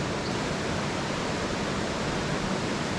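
Waterfall near a river crossing: a steady, fairly quiet broadband rush of falling water, unbroken for the whole stretch with no voices.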